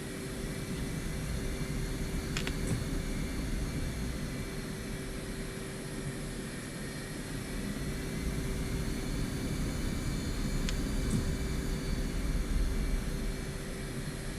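F-16 jet engine in flight in DCS World, a steady loud roaring whine with a constant tone running unbroken throughout, climbing through clouds level with the mountains, with a couple of faint short beeps.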